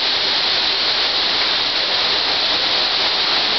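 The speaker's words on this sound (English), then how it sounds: "the waterfall obviously was already here" A loud, unbroken roar of rushing water from a waterfall at the Queen's Staircase in Nassau, Bahamas fills the air, steady and hissing with no pauses or voices.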